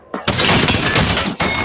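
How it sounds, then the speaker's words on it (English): A loud, sharp shattering crunch of an enemy shield breaking in Apex Legends, a dense burst lasting over a second that cuts off abruptly, then a brief further crackle. "Enemy shield broken."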